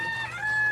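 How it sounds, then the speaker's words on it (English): A mini rooster crows once in a short, high, strained call, close and fairly loud, with steady tonal bands and no talking. "In case y'all wanted to hear what a mini rooster sounds like."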